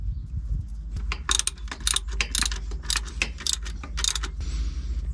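Screws being tightened on a worn camper van part, heard as a series of close, sharp metallic ratcheting clicks and ticks in quick irregular bursts over a low background hum.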